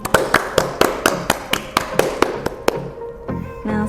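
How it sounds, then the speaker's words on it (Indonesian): Applause for a morning briefing speaker comes as a sparse round of distinct, evenly paced claps, about a dozen sharp hits that fade out, followed by faint low murmuring. "Beri aplaus untuk pemateri briefing pagi ini."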